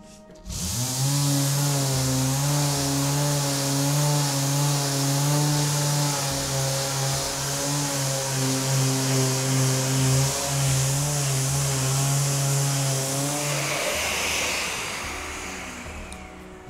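A Mirka Ceros electric sander with an Abranet disc and dust extraction runs up to a steady close whine, holds for about thirteen seconds, then winds down, with no talk.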